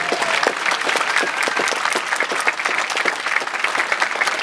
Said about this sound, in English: Give a round of applause to everyone around us.